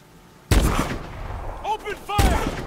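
Heavy gunfire in Call of Duty Advanced Warfare during a combat mission, with loud bursts of shots starting abruptly and repeating, mixed with game voices shouting.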